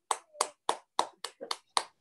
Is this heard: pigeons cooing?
no